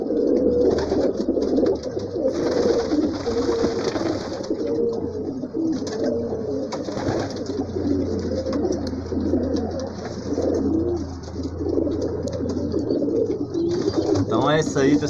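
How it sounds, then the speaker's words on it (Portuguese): Pigeons coo repeatedly in a loft at feeding time, soft low rolling calls overlapping from several birds nearby, with someone talking over them through much of the scene. "vocês viram aí os pombos aí"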